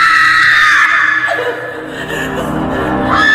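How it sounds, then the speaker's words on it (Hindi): A woman screams loudly in a horror story scene, a shrill, sustained cry that wavers and dips into whimpering before rising again, close and intense. "वो जोर जोर से चीखने लगी।"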